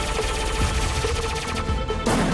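Rapid gunfire from the player's weapon in the sci-fi side-scrolling game Starbreak, a dense run of sharp shots under game music, loud and continuous with a heavier burst near the end.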